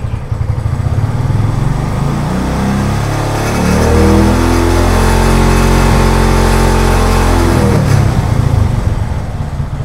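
A Honda Tiger motorcycle engine fitted with a Fukuyama regulator-rectifier idles, then the throttle is opened and held. It climbs into a loud, sustained rev for several seconds before dropping back toward idle, close by and alone.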